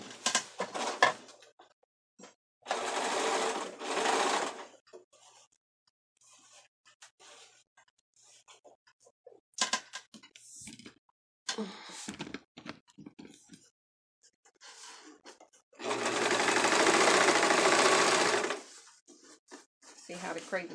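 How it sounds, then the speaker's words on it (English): A serger finishes the raw edge of a blue tulle skirt for a child, running in two sustained whirring bursts of a few seconds each, with a person talking in the gaps between them. "I'll actually take it to the serger, and I'll go ahead and finish serging the edge"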